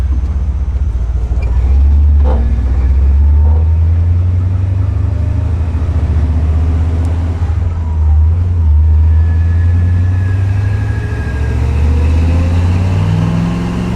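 A Ford Mustang engine revs steadily as its carburetor secondaries open, a loud, continuous low-pitched drone heard from inside the car, rising gradually in pitch over the stretch with no talk.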